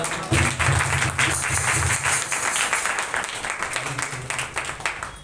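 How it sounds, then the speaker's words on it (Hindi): A church congregation at a Sunday sermon claps loudly in welcome, a dense, steady patter of many hands that fills the room, with a low musical tone humming underneath. "जोरदार तालियों से स्वागत करते हैं।"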